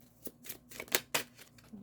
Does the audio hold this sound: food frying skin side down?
no